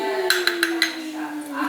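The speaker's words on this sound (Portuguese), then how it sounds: "Agora vamos só mexer aqui, ó. Só para esse óleo de copaíba entrar aqui dentro" A metal spoon clinks against a container four times in quick succession while copaiba oil is stirred into a homemade cough syrup, sharp close taps over a sustained ringing tone, then softer scraping.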